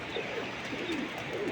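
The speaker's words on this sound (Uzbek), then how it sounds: "Uyda qushlar bor sotadigan." Pigeons kept at home for sale coo softly and repeatedly, a low, rolling murmur of several birds heard fairly close over a steady indoor background.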